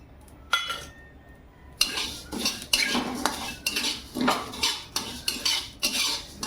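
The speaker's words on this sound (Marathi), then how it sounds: "एक एक मसाले आपण भाजून घेऊ." Whole spices being dry-roasted in a hot kadhai, a metal spoon stirring and scraping them in steady, repeated clinks and rattles, close and fairly loud, with no talking.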